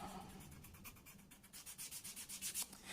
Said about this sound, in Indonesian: Jadi dia harus tetap ikut diamplas